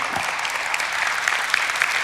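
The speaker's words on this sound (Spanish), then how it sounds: "Jesucristo merece un aplauso por eso" Steady applause from a church congregation, a dense even patter of many hands clapping throughout a short stretch with no voices over it.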